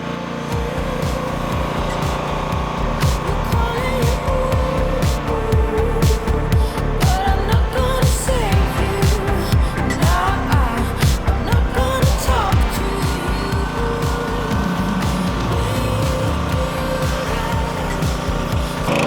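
A SEQUOIA SPW6000 petrol pressure washer runs continuously, its engine chugging in a fast steady pulse, loud and close, with a faint voice in the background.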